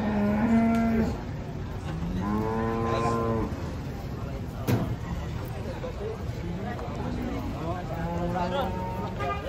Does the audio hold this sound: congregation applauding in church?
no